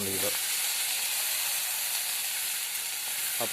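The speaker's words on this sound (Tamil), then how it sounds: "அடுத்து வந்து தக்காளி அப்படியே அதில் அப்ளை பண்ணுறோம்." Chopped tomatoes for pirandai chutney sizzle and hiss steadily in a hot pan, a continuous close frying sound with brief low voice fragments at the start and end.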